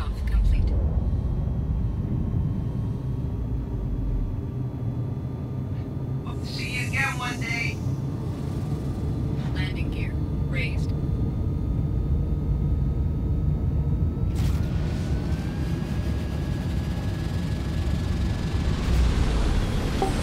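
Engine hum and low rumble from a Terrapin ship flying in the game Star Citizen run steadily throughout, with a rising whine near the end and someone talking over it.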